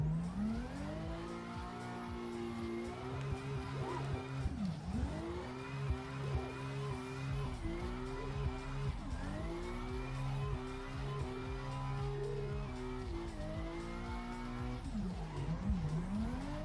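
Simulated car drifting in the racing game Assetto Corsa, with a steady, loud engine note rising and falling in repeated revs and dips, and tire squeal running throughout the slides with no talking.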